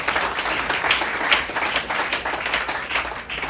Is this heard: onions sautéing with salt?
no